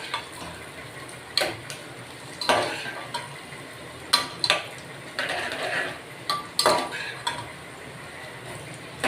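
Gram flour for Sindhi kadhi is stirred in hot oil in a pan, with repeated scraping and clinking of a metal spoon against the pan over a low sizzle, in irregular bursts.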